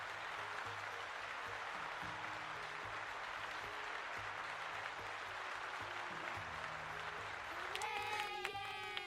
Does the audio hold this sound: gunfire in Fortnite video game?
no